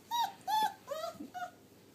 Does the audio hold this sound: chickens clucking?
no